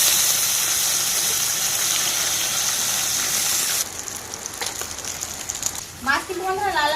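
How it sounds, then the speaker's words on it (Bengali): Fish sizzle loudly in hot oil in a wok during outdoor home cooking in the Sundarbans, with a dense, steady hiss for several seconds. It then drops to a softer crackle, and a brief voice-like warble comes near the end. "একে একে সব মাছগুলো ভেজে নেব।"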